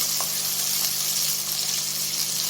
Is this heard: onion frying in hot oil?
yes